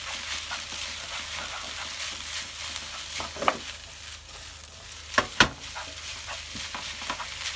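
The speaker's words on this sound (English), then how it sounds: "Get that stirred in." Singapore noodles being stir-fried with a pinch of salt, a soft continuous sizzle under a few sharp clacks and scrapes of the utensil against the wok.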